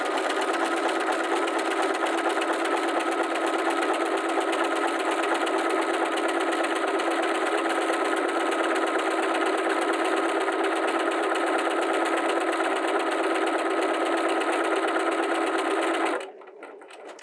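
A Bernina 325 sewing machine stitches a 16 mm buttonhole in one steady, continuous mechanical whir that runs evenly for about sixteen seconds, then stops abruptly, leaving quiet room tone.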